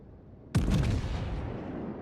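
A heavy naval gun salvo in World of Warships fires with a sudden, loud booming blast, which is followed by a long rumbling tail that fades slowly.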